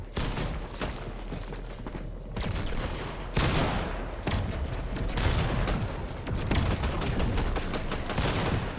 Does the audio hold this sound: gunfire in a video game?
yes